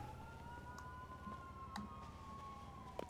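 Police siren in a video game, a steady wailing tone held under a low engine-like rumble with a few faint clicks, no talk over it.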